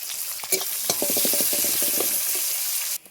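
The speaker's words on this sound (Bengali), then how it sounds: "এবার তেলে দিচ্ছি শুকনো লঙ্কা, তেজপাতা ফোড়ন।" Dried red chillies and bay leaves sizzle in hot oil in a pan, a loud continuous hiss broken by rapid crackles and spoon-stirring scrapes, then cut off abruptly near the end.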